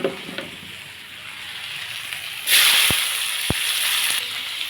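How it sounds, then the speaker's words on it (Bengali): Chopped onion dropped into oil left from frying fish, bursting into a loud steady sizzle about halfway through, with a couple of sharp knocks against the pan; a fainter background hiss before it. "মাছ ভাজার যে তেল রয়েছে ওর মধ্যে আমি কোচানো পেঁয়াজ দিয়ে দেবো।"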